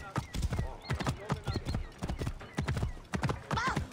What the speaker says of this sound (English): Come on, horse, pick up some speed